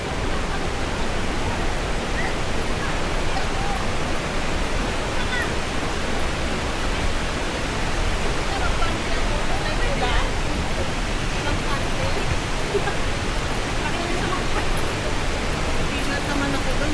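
Tatay (Majayjay) Falls roars in a dense, unbroken wash of falling water, loud and steady from start to finish, with a few voices faintly buried beneath it.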